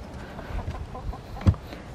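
A pet chicken in a netted coop clucking, soft scattered clucks with one louder note near the end, no talking.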